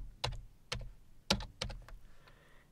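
A computer keyboard is typed on in a handful of distinct, close keystrokes spaced by short pauses, crisp clicks in an otherwise quiet room.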